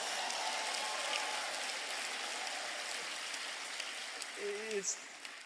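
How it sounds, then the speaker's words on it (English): A crowd in a Berkeley campus hall applauds in a dense, steady wash of clapping, slightly distant and hissy, tapering off near the end as a voice briefly speaks. "How about a round of applause for all of you for making it in here?"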